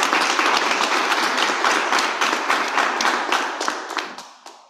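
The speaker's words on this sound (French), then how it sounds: "offrons des applaudissements chaleureux à notre président régional." Warm applause for a regional president at a formal public event: dense, loud clapping from a crowd that holds steady for several seconds, then thins out and fades near the end.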